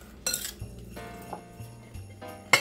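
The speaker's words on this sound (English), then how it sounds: "go ahead and stir it around, getting all the shrimp coated evenly" Raw shrimp and olive oil being stirred in a bowl give a few soft clinks and scrapes, with brighter taps near the start and end against a faint background hum.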